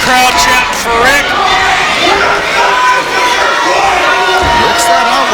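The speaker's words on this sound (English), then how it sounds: "Now the crowd chanting for Rik." A wrestling crowd in a loud, packed venue chants for Rik Luxury, a dense roar of voices with rhythmic shouting that carries on without a break through the whole stretch.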